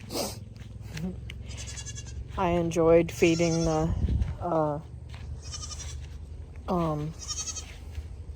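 Goats on a farm let out several loud, wavering bleats, some close together and some spaced apart, with a person speaking softly in between.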